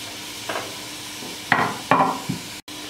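Pepper is tipped into a hot pan for pumpkin cream soup, making a few brief scraping and stirring sounds against a low, steady sizzle.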